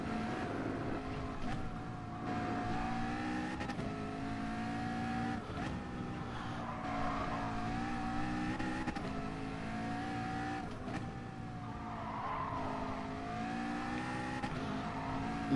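A McLaren race car engine drones steadily around the Nordschleife in Gran Turismo Sport, loud and continuous, its pitch rising and falling through gear changes with faint tire noise.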